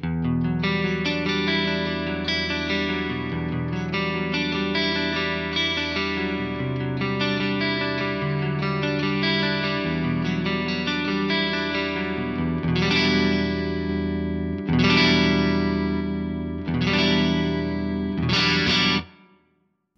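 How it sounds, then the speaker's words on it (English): Electric guitar chords with a thick, doubled, slightly detuned chorus-like shimmer, played in a steady strumming pattern before stopping abruptly. "now I've got 2 extra guitars playing along with me, but they're just slightly out of tune"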